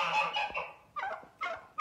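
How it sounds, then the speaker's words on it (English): Loud, harsh honking and gobbling from turkeys and geese, a dense burst of calls followed by two shorter squawking bursts, close by. "I don't even know if you can hear over the turkeys, they're so loud, between the turkeys and the geese"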